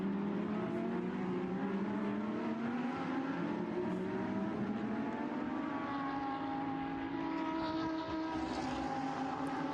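Lamborghini Super Trofeo race cars lapping the busy Misano circuit, a steady, loud engine drone with rising and falling pitch as several cars pass, continuous throughout with no voices.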